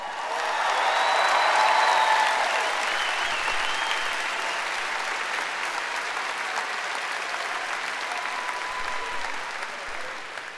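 Applause from a high school graduation audience honoring a senior appointed to West Point, swelling early then continuing as steady, moderately distant clapping from a large crowd for about ten seconds.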